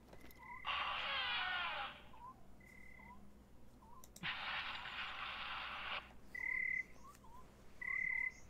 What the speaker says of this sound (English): Who's gonna hear me over all these crickets? Or little peep toads, I don't know.